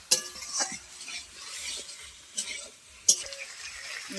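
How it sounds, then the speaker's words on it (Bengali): Shredded cabbage being sautéed with spices in a pan: soft sizzling under a few scraping stirs and light utensil knocks, fairly quiet and close, with a faint voice in the background. "এবার আমি ভালো করে মশলার সঙ্গে কপিগুলো ভালো করে কষিয়ে নেব।"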